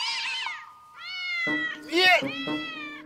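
A cat meows repeatedly in drawn-out, rising calls, close and fairly loud, within a comedy film scene; someone speaks briefly over it.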